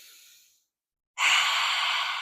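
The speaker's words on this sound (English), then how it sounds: "Take a full breath here" A full breath taken during a cool-down stretch: a short fading exhale, a pause of silence, then a strong, airy inhale that holds steady to the end, close and alone.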